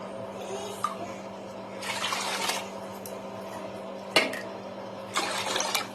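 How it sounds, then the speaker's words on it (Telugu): Water poured by the glassful into a pot of rice and lentils for sambar rice, heard as several separate splashing pours with short pauses between them, close by and without talk. "ఇప్పుడు five glass water five cups water వేసుకోవాలి"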